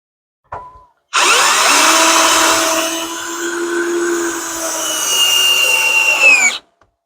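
A cordless drill whirs steadily for several seconds, its pitch sagging and rising as it bores into wood under load, close and loud, then stops abruptly.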